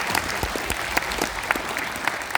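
An indoor audience at a public event applauds steadily for a couple of seconds, dense hand claps with a few louder individual claps standing out.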